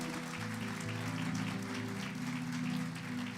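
A church congregation applauds together, a steady dense clapping that fills the room, heard over sustained organ or keyboard music at a moderate distance.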